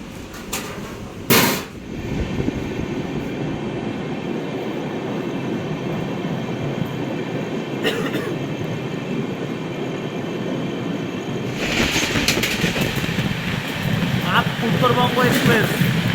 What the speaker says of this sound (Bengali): উত্তরবঙ্গ এক্সপ্রেস।